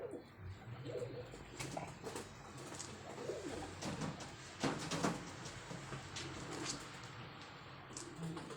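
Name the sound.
pigeons cooing on an air conditioner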